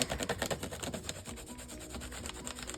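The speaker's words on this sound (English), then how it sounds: "you pick a couple places and you just take the crayon over it" A crayon is rubbed over paper laid on a texture plate, making quick rhythmic scratchy strokes, close and soft, that settle into a steadier, lighter rubbing.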